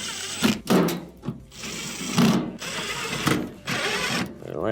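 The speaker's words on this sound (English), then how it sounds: "Then let's go ahead and start to reinstall the screws." Screws go back in during a refrigerator drain tube repair, with close, intermittent bursts of scraping and turning from a hand tool, broken by short pauses.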